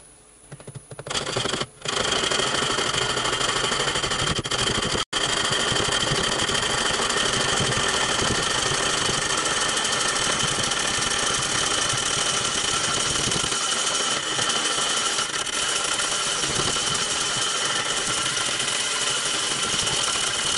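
A wood lathe turning a large olive wood piece hums and whirs at a steady 250 rpm for a long stretch, a constant mechanical drone with faint vibration and no talking.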